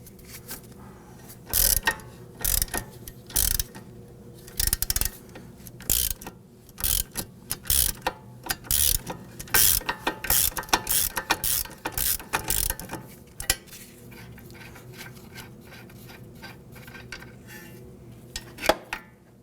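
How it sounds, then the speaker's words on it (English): A wrench spins the strut nut off a 2001-2009 Volvo S60 front strut while a T40 Torx bit holds the stud, producing rapid loud ratcheting clicks in repeated bursts. Quieter pauses fall between the bursts, and the clicking thins out toward the end. "what we're going to use is a Torx bit to hold the center and our wrench to go ahead and spin off the nut"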